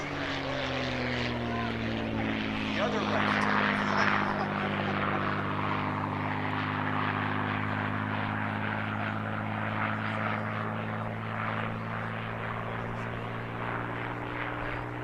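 A P-51D Mustang's Packard-built Merlin engine, about 1,700 horsepower, drones steadily and loudly at an air show, its deep tonal hum slowly shifting in pitch as it passes, with a brief voice speaking over it.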